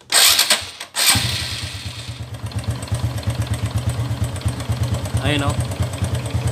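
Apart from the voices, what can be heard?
noisy motorcycle engine starting and idling with knocking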